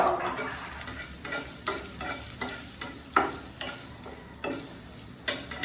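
Whole cumin seeds and dried chilies fry in hot oil for a masoor dal with drumsticks. A continuous sizzle runs throughout, with repeated scraping stirs rising and fading at close range.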